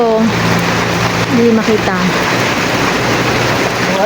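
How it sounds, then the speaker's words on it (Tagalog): Heavy rain pours outdoors in Baguio while a family waits for a taxi, a loud, dense roar of water that fills the whole stretch as people talk over it. "Ayan, ma'am, umuulan, lumalakas."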